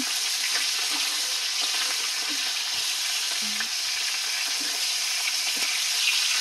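A steady, loud hiss of fish frying in a pan carries throughout, with faint pops and a brief clunk partway through, close by and without any talking.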